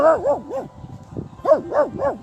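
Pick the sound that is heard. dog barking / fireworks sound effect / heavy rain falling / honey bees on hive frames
dog barking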